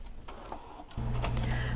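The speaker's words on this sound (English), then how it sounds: "put my ink cartridges in and turn on the printer" An HP OfficeJet Pro 8022 or 8025 printer starts up partway through, settling into a steady mechanical hum and whir with light ticking after quieter handling noise.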